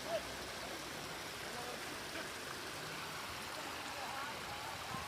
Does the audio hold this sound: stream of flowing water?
yes